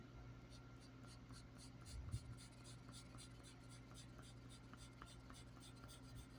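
Crayola crayon lightly scratching across paper in a quiet room, a soft rhythmic series of faint strokes repeating steadily.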